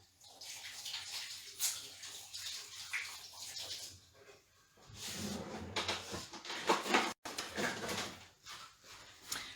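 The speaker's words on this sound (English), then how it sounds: "I'll just quickly wash my hands." Tap water runs and splashes as hands are washed under it, a close, uneven gush that rises and falls, with a brief dropout near the end.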